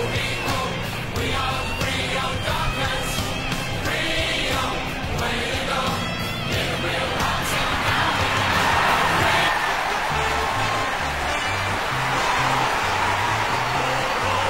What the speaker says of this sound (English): They're looking sharp and the crowd are appreciating it.